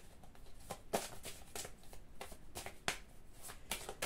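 Oracle cards shuffled by hand during a spiritual card reading, giving several crisp riffling bursts and light slaps as cards are laid down, close and fairly quiet with no talking.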